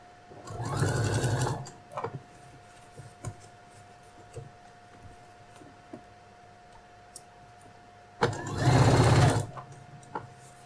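A sewing machine stitches a phone case in two short, steady bursts, one at the start and one near the end, with faint clicks and ticks in the quiet gap between them.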